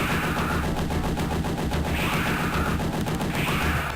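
Repeated gunshots in the Aliens video game, firing in a fast, dense stream that runs for the whole stretch over a constant loud background.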